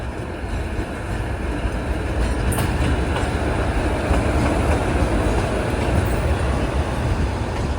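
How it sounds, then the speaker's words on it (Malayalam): The Thiruvananthapuram–Mangaluru Ernad Express rolls into platform 1 at a Kerala station with a loud, steady roar of wagons and wheels, with faint clickety-clack and brief squeals, and no voices. "ഇവിടെ 1-ാം നമ്പർ പ്ലാറ്റ്ഫോമിലേക്ക് തിരുവനന്തപുരം മംഗളൂരു ഏറനാട് എക്സ്പ്രസ് കടന്നു വരികയാണ്"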